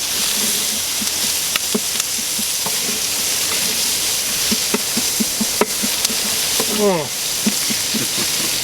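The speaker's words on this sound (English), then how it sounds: "we're going to go ahead and add some garlic in here" Garlic frying in a pan for paella, a steady broadband sizzle running throughout with scattered clicks and scrapes of stirring, and a brief rising squeak near the end.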